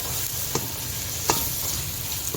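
Frozen paste is stirred into a pan of cooking chicken, producing a steady close sizzle broken by two or three sharp spoon taps against the pan.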